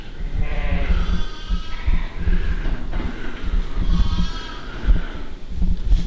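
Sheep bleat repeatedly inside a busy lambing shed, several loud, wavering calls overlapping one another with steady low rumbling and shuffling beneath.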